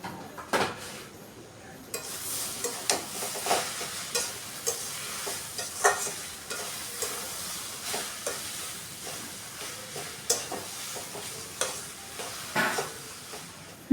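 Ground spices are stirred into a papaya dish in a pan, with repeated metal scrapes and clinks over a low sizzle. The stirring stays steady and close throughout, with a faint voice now and then.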